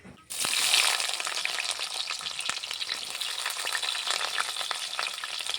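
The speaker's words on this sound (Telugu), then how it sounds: "నూనె అయితే కాగింది ముందుగా కట్ చేసి పెట్టుకున్న ఎర్రగడ్డ ముక్కలు అయితే బాగా వేస్తున్నా" Cut red onion pieces hit hot oil in a village kitchen pan, a sudden loud rush of sizzling that bursts in after a brief quiet moment and keeps hissing steadily.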